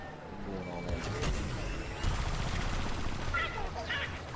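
Turret gunfire from a space battle in Star Wars Battlefront II, a steady dense clatter of rapid shots and blasts running throughout, with engine roar and a voice talking underneath.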